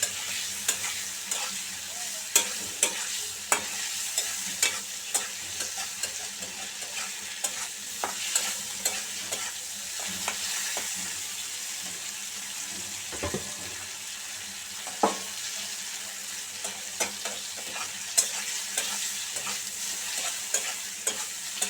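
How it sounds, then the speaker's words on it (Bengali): Steady crackling sizzle of prawns frying in hot oil with spices, with occasional sharper pops and a few utensil clinks, continuous throughout. "2-3 মিনিটের মতো আমি মশলাটাকে ভেজে নেব মাছগুলোকে।"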